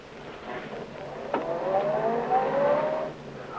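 A car in a 1940s radio drama starts and drives off, its engine rising in a whining acceleration that swells and then fades, alone without voices.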